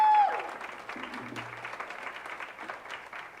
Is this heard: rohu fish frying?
no